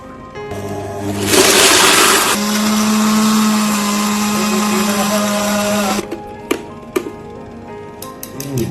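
A kitchen blender roars loudly for several seconds, grinding green cardamom, almonds, black peppercorns, poppy seeds and sugar, then cuts off, leaving a few sharp clicks and taps.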